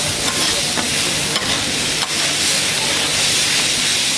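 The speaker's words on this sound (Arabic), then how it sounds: "ابتدينا نخلط الحوايج كلها على بعضها" Spicy sausage and vegetables fry loudly in a pan while being stirred, giving a dense, continuous hiss with a couple of soft scraping knocks and no talking.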